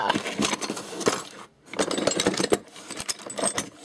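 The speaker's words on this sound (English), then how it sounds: "More hexagon keys have just turned up." A loose bunch of metal hexagon keys jangles and clinks as it is handled close by, rattling in busy metallic bursts with a short pause midway.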